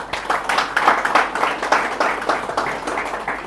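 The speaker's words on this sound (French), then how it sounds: "que je vous prie d'applaudir, s'il vous plaît" A conference audience claps steadily for several seconds, dense and even, at moderate loudness with no voices over it.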